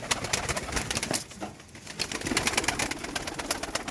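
Tumbler game pigeons in Diyarbakır Çermik coo and flutter nearby, overlapping soft calls with a brief lull midway and a few wing flaps, no talking.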